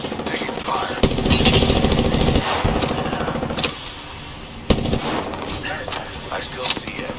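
Gunfire in the Apex Legends battle royale game crackles in repeated bursts over a rumbling mix of game sounds, with sharp loud shots standing out near the start and middle, while a voice talks over parts of it.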